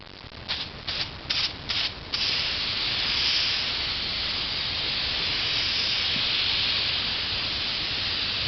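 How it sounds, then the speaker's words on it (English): Several short bursts from an aerosol can of wood finish sprayed onto wood, then a long continuous hissing spray that keeps going steadily to the end. "Just spraying it on evenly."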